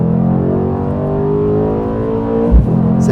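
A Mercedes-AMG C63s convertible engine hums loudly and steadily on launch control with layered harmonic drone, then a sharp thump near the end as it launches.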